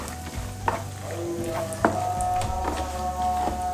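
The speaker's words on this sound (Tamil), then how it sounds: "அதையும் போட்டு லேசாக வதக்கிட்டு, ரொம்ப கருகக்கூடாது" Raisins sautéing in ghee in a pan while making somas, a soft steady sizzle with a few sharp stirring clicks and a low tonal hum beneath, close and moderately loud.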